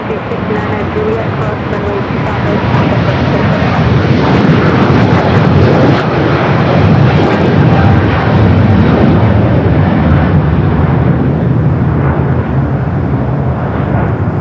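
A Dubai Air Wing Boeing 747-400 at LAX gives a loud, continuous jet rumble and roar, holding strong and even throughout.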